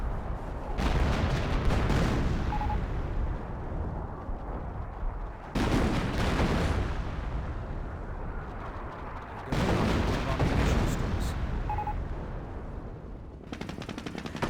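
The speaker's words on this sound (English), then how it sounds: "Artillery barrage reading somewhere. 25-pounder." A 25-pounder artillery barrage in the strategy game Company of Heroes, with three long loud bursts of booming fire and explosions separated by brief lulls.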